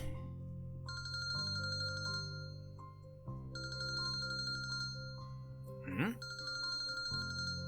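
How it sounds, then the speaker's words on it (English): A mobile phone rings with a repeating electronic ringtone, bright melodic tones cycling several times over steady background music, with a brief rising sweep near the end. "That was my phone."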